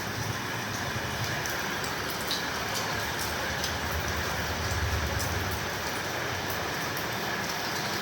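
Heavy rain falling in Tirupati, a thick, continuous roar of downpour with a rumbling low end, unbroken and without speech.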